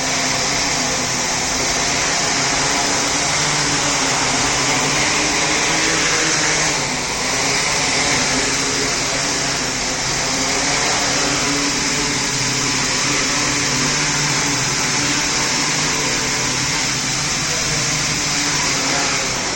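Drone motors on a solar-powered surveillance drone whine loudly and continuously in flight outdoors, holding a steady high-pitched buzz for the whole stretch.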